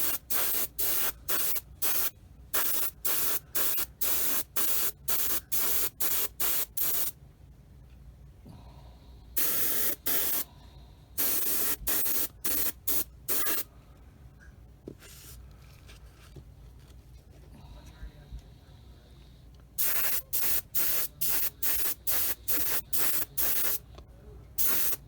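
A spray gun lays another coat of finish on a guitar build in short, sharp hissing bursts, repeated many times with brief gaps between them. After a longer pause in the middle, the bursts start again. The spraying is close and loud.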